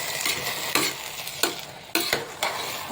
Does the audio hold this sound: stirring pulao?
yes